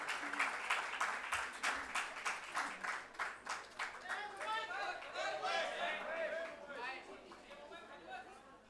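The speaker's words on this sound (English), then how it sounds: "A very big round of applause for him." Audience at a book launch event clapping in a strong rhythmic burst that later thins into scattered claps, with crowd chatter and a voice speaking over it.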